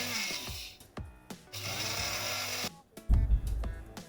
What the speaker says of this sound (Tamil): இப்போ இது ஒரு மிக்ஸி ஜாரில் போட்டு பல்ஸில் போட்டு ஒரு 3-4 தடவை நல்லா